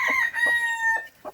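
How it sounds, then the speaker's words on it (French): A rooster in a backyard poultry enclosure crows nearby, a loud, strained cock-a-doodle-doo with a few short harsh breaks, heard on its own without talk. "Ça y est, il commence à s'exciter le coq."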